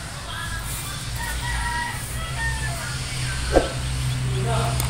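Gamecock chicks and their hen kept in a pen, faint scattered peeps and clucks spread across a steady low background hum, with one brief louder burst near the end.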